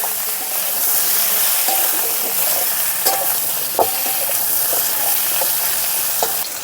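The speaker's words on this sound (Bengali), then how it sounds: "এখন ঢাকা দিয়ে আলু আর পটলটাকে ভালো করে ভেজে নেব" Potatoes and pointed gourd fry in a pan with a loud, close, continuous sizzle, punctuated by occasional stirring clinks and scrapes, with no speech.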